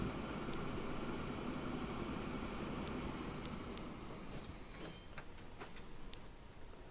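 Freight train with boxcars in the video game Transport Fever 2 rolling steadily along the track, a continuous rumbling clatter of wheels with sharp metallic squeals and clicks toward the end, moderately loud with no talk.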